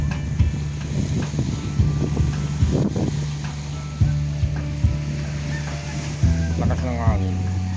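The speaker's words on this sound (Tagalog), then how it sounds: "Lakas ng hangin." Steady roaring coastal wind at Calaca, Batangas, Philippines, buffets the microphone under engine-like hum and bursts of nearby talk.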